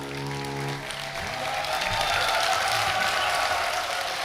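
Audience applause breaks out after a pansori performance of the Chunhyang story by master singer Park Ae-ri, rising as a final sustained musical tone fades and then holding as a dense, steady wash of clapping.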